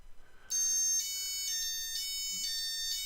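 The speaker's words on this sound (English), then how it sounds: "you heard the system alarm and you saw the tag signal shoot up." A security tag detection system's alarm sounds after a tag enters the antenna field, a shrill electronic tone pulsing in repeated bursts, steady and clear over a quiet background.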